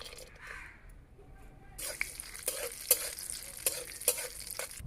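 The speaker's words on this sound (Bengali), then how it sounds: "কাজু বাদামটা ভাজা হয়ে গেছে" Chopped cashew nut pieces fry in hot ghee in a pan, a bright sizzle breaking in after a quieter start, with sharp spoon clinks and scrapes as they are stirred.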